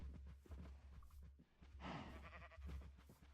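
Farm animals bleating and lowing in the Minecraft SevTech Ages modpack, a drawn-out call in the middle over a constant low hum, fairly faint.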